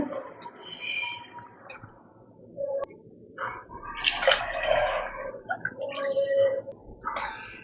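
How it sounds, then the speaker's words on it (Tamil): Water is poured into a cooking pot in a few short splashing bursts, close and moderately loud, with quiet pauses between pours. "இப்போ நம்ம ரெண்டு டம்ளர் தண்ணி ஊற்ற போகிறோம்"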